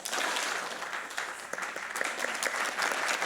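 An audience at a championship award ceremony claps for a runner-up trophy winner, a brisk, continuous round of applause with scattered sharper claps standing out.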